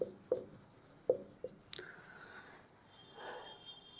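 Pen on paper while working a trigonometry problem, a few close scratchy strokes and taps followed by a longer faint scribble, quiet and alone.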